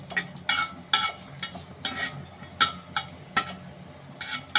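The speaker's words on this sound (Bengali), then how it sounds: "আমি ঘিয়ের ভেতরে 2টা দারুচিনি আর একটা এলাচ দিব," Two cinnamon sticks, a cardamom pod and a bay leaf frying in ghee, with a gentle sizzle under regular sharp clinks and scrapes of a spoon stirring the pan, close and fairly quiet.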